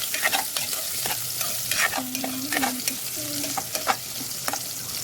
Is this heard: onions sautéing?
yes